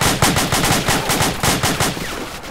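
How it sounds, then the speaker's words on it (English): Rapid bursts of gunfire during a two-story building clearing exercise, a loud close series of about a dozen sharp shots in quick rhythm, tapering slightly at the end with no talking over them. "Shots."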